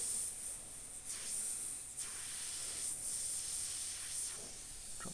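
Airbrush spraying paint through a skull template, with soft airy hisses in repeated short bursts about once a second over a steady faint background hiss.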